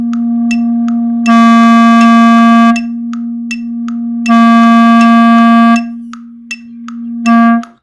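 A clarinet holds one steady low note while the tongue touches and leaves the reed, with short tongued clicks and blurts in beat pattern between louder buzzy stretches, played alone and close.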